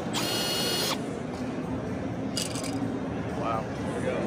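A Milwaukee M18 Fuel 1/4-inch lockbolt tool fires once with a sharp, loud mechanical burst, followed by quieter clicks and handling noise over a steady background, with speech nearby.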